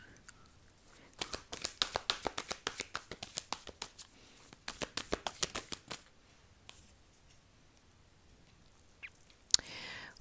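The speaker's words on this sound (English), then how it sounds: "Let me pull out more cards" Tarot cards being drawn and shuffled, a long run of quick crisp riffling snaps in two bursts, then scattered soft card handling and a final sharp slap, close and fairly quiet with no talking.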